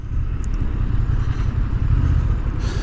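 A 2023 Honda Transalp motorcycle rides steadily with a loud, continuous low engine rumble and road roar, the drone dipping briefly as if through a gear change, with no voices over it.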